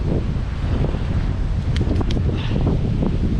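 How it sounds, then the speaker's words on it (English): Strong wind the day after a hurricane buffets the microphone by a flooded river with a constant low rumble and gusty roar, with faint rustling beneath. "You can tell the wind, it's still windy."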